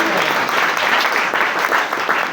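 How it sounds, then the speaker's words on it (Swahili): Loud, dense applause for newlyweds at a church wedding fills the space in a steady wash of many hands clapping, continuing without a break. "Tuwapigie makofi mazuri."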